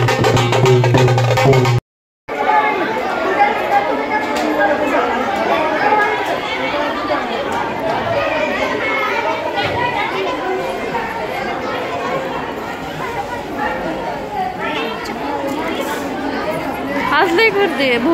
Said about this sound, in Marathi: आज लई गर्दी आहे